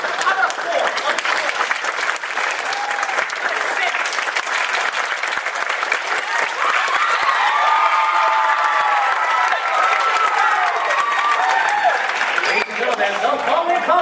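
A live show audience bursts into full applause and cheering at a requested 'level 4' on an applause meter, a dense, loud, sustained roar of clapping and shouts with no break.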